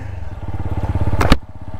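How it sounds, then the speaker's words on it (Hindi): A TVS Apache RTR 160 4V motorcycle engine idles close by with a steady low pulsing throb, joined near the end by a brief sharp clatter or blip as it is kicked into action. "मैं चलाऊंगा स्पोर्ट पे टीवीएस अपाचे 164 वी मॉडल"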